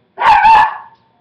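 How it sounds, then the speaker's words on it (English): A single loud, close dog bark, one sharp, slightly drawn-out bow-wow heard alone indoors. "Sorry about the dogs."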